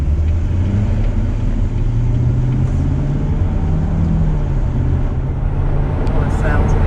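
2019 Corvette Stingray engine accelerating gently from inside the cabin, a steady low drone that slowly rises in pitch, with people talking over it.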